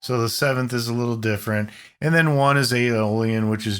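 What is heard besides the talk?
No everyday noise stands out behind the speech.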